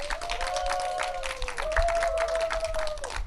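A roomful of people claps at a district mayoral candidate's press conference in Jungnang, scattered hands under a sustained, wavering ringing tone that rises and falls midway through.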